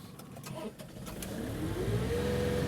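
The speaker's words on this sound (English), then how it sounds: "notice that when I start the tractor, I'm wide open throttle" John Deere compact tractor engine starting at wide open throttle: cranking chatter gives way to a rising, steady engine drone that climbs in pitch and settles loud and close.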